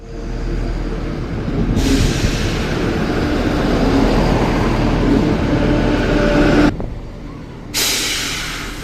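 A Chiltern line diesel multiple unit, the predecessor to the Turbostar, rumbles steadily in Birmingham with a broad, loud engine drone and a brief hiss of air brakes. The sound drops out abruptly near the end, then resumes.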